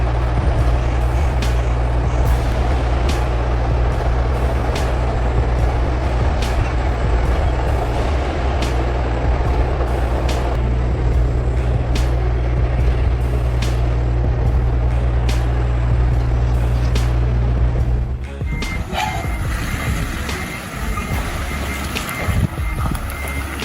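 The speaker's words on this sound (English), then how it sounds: "The whine of the engines, combined with the crunch of rubble beneath the wheels, created a symphony of perseverance." Heavy trucks laboring up a rubble-strewn slope, a loud, continuous low engine drone with steady rumble and periodic sharp clicks, shifting in tone near the end as a vehicle changes gear or moves past.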